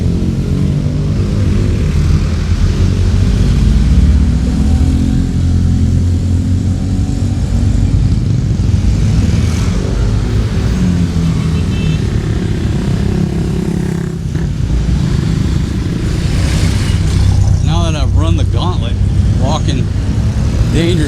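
Night road traffic in Angeles City heard while walking along the street, a constant roar of passing engines and motorbikes close by, with rising revs near the end and occasional voices mixed in.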